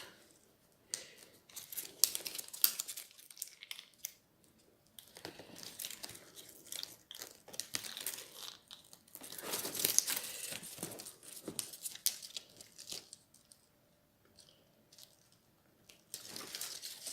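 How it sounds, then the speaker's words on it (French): Paper being folded and creased by hand while making a decorated box, giving soft continuous crinkling and rustling with brief pauses, close and fairly quiet. "je fais attention que mes plis soient bien dans le"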